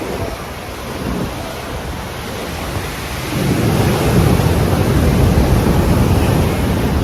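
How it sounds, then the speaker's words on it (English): Big ocean waves breaking on the shore, a dense roaring wash of noise that swells louder partway through and stays heavy, loud and close with no voices. "The waves are out here are pretty big out here as well."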